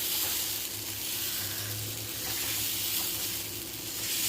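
Dosa batter poured onto a hot stone griddle for breakfast sizzles in a steady, soft hiss, fairly quiet and continuous, with no voices.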